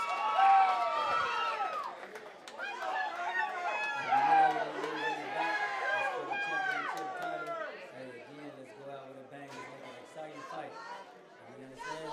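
Crowd noise at an MMA event before a fight, a broad excited murmur and chatter filling the arena, with a voice talking over it throughout.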